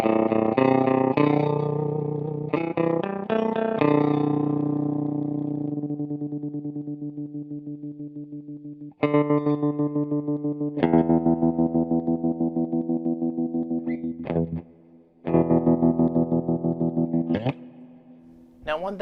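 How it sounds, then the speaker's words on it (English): Sustained guitar chords chopped by a fast, hard-edged on-off square-wave tremolo from a JHS Kodiak tremolo pedal, pulsing in a steady choppy rhythm; notes ring out, stop, and are struck again. "this is a very, very choppy helicopterish tremolo."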